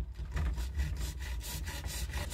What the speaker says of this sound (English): I'm going to saw